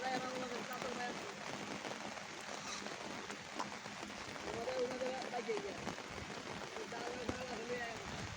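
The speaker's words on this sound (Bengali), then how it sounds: "এখনো বৃষ্টি হইতে আছে" Steady monsoon rain patters on surfaces in a continuous hiss during flooding in Haluaghat, Bangladesh, with people talking faintly underneath.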